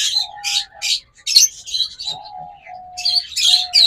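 A caged opaline pair of birds chirps in quick bursts, sharp bright tweets and short squawks tumbling over each other close by, with a few brief gaps between the calls.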